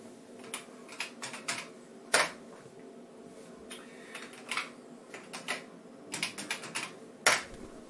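Keys clatter on a computer keyboard as a command is typed to list floppy disk images on an SD card, in irregular bursts of close, crisp taps with short pauses and two louder strikes.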